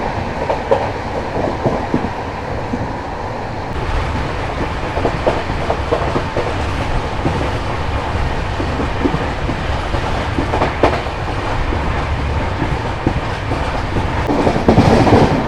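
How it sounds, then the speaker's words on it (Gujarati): A Duranto Express runs nonstop on the rails between Surendranagar and Rajkot, heard from inside the coach as a loud, continuous rumble with rhythmic clickety-clack wheel beats throughout. "સુરેન્દ્રનગરથી રાજકોટ 110 કિલોમીટર આપણી ગાડી નોન સ્ટોપ ચાલશે."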